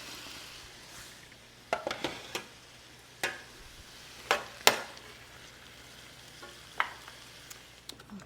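Beef sizzles softly in a pan while being stirred, the steady frying hiss broken by sharp scrapes and clicks of the utensil against the pan, with no talking.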